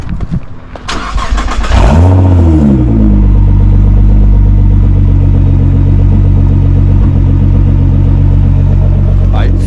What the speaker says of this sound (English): for me that's the best sound ever for a car